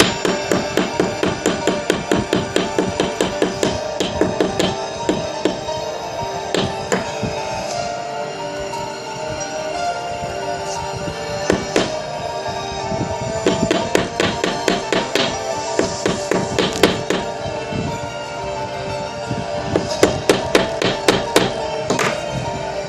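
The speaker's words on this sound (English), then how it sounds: "Be patient with the hammering." Repeated hammer taps while working on an improvised fountain pen, a steady rhythm of close, sharp metallic blows running continuously with brief pauses and louder bursts.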